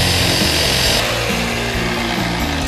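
A BladeRunner saw cuts through thin stone with a loud, continuous grinding whine, the pitch shifting slightly as the blade works through the material, with a vacuum drawing away the dust.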